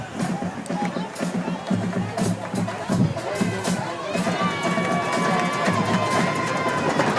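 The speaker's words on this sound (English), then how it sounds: "Red Mountain crowd begin to make some noise." Crowd at a Red Mountain varsity high school football game cheers and shouts continuously, a dense roar of many voices with whistles and children's yells rising toward the end.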